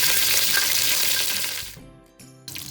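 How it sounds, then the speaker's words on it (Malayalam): Dried red chilies and curry leaves frying in hot oil in a pan on a stove: a loud, close, continuous crackling sizzle that drops off suddenly, followed by a brief quiet clatter. "ഇനി അടുപ്പത്തൊരു പാൻ വെച്ച് എണ്ണ ഒഴിച്ചതിന് ശേഷം 2 ഉണക്കമുളകും കുറച്ച് വേപ്പില ഇട്ട് ഇടാം."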